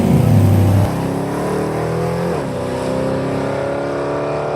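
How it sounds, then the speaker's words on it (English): A high school drag racing car idles and revs at Byron Raceway in Byron, Illinois, a loud, close engine drone with a strong burst at the start, then a steady rumble with a slight dip in pitch. "We're here at Byron Raceway in Byron, Illinois, in the high school drag racing class, competing with our car."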